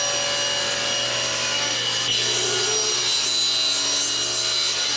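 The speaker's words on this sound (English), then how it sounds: "rip these boards to just under 6 inches wide" Continuous, loud saw ripping through wooden boards lengthwise in a woodworking shop, a steady power-tool whine with cutting noise throughout.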